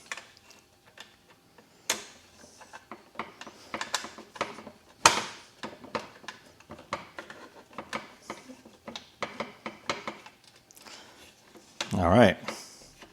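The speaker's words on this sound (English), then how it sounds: "we will just go ahead and remove these screws, and they come out pretty simple" Phillips screws backed out of a 1984 Hasbro Proton Pack toy, giving a scatter of small plastic-and-metal clicks and ratcheting ticks at close range, with a louder scraping burst near the end and talk running over it.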